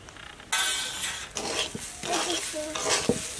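Spices, turmeric, salt and cumin powder, stirred in a pot with a spoon for a festive Bengali dish: short scraping strokes with a soft sizzle, close and clear, repeated several times over a few seconds.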